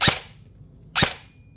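An SLONG NTR Dark Phoenix or Scorpion airsoft gun fires two sharp, close single shots about a second apart, each a crisp snap with a short decay, no talk.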